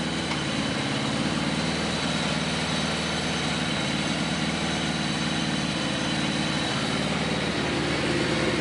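A Suzuki GS850 motorcycle engine idles close by with a low, even rumble and no pauses or revving throughout, with oil leaking from a gasket onto the exhaust.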